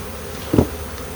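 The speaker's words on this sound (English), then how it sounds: "these bees here, being queenless, they're pretty agitated and stirred up" An agitated, queenless July honeybee swarm gives a low, steady buzzing hum that swells briefly near the middle. No one speaks.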